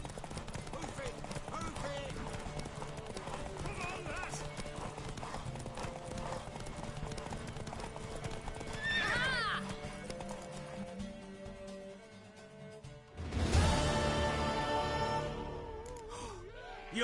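Horse hooves clip-clop steadily in the Witcher 3 video game, with a whinny midway and a louder burst of neighing and movement near the end, mixed with voices and game sounds.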